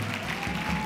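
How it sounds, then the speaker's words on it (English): A church congregation claps in a steady, dense, moderately loud burst of applause, with no pauses. "Keep clapping,"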